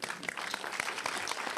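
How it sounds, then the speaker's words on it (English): An audience claps in a round of applause at the close of an open forum segment, a brief, dense and even burst of many hands. "And a round of applause. Let's do it for ourselves."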